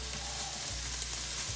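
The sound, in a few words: ham and garlic frying in a pan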